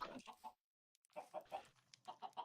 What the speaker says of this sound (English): Eh, chickens, stop escaping!